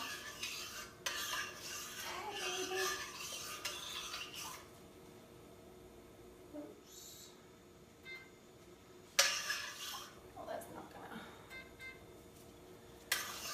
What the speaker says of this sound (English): And then just kind of stir it around